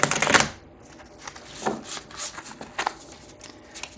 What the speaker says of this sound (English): The cards are already pre-shuffled, but I'm going to do a couple more